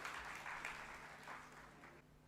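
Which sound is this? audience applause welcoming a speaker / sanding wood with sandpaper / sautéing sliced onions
audience applause welcoming a speaker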